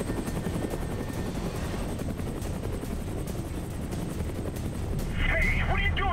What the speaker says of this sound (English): Just fly the fucking helicopter!